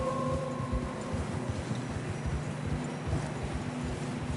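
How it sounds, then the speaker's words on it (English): Horses trudge through deep fresh snow in a PS4 video game, a steady, continuous run of muffled, rhythmic hoof plods and crunches at moderate loudness with no talking. "Horses are struggling."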